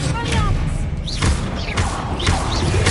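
Bombarda blasting spell cast in the Hogwarts Legacy video game, heard as a few dull booming thumps spread over a few seconds over a steady rumbling game background, with faint swirling magical swishes between them.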